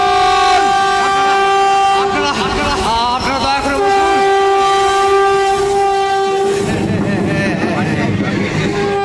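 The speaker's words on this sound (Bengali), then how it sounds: "ট্রেন আসছে," An approaching train sound effect plays during a Bengali jatra stage play, a loud sustained horn blast over rolling rail noise that swells and rumbles, with voices underneath.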